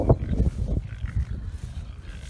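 Farm pigs grunt and snort in low, rough bursts close to the microphone, heaviest at the start and then trailing into softer rumbling.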